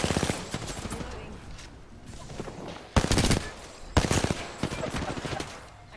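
Bursts of rapid weapon fire in Apex Legends, with several loud volleys cracking out over game ambience and a few mid-level clusters of shots in between.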